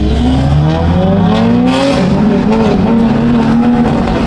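A BMW G80 M3 engine revs hard and loud close by, its pitch climbing and falling in continuous sweeps with a rough, throaty growl.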